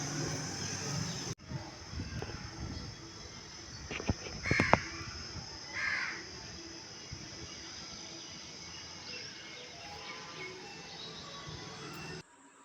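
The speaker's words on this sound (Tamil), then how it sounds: "காக்கா வந்து சாப்பிட்டுக்கிட்டு இருக்கு" Crows cawing near a house while they eat food left out for them, several sharp caws in a cluster mid-clip over a steady background of insect and cricket buzz, with faint outdoor noise.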